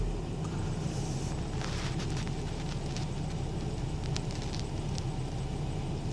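A 2003 Nissan Frontier engine idles with a steady low rumble whose speed wavers unevenly, heard up close with faint clicks and ticks over the drone.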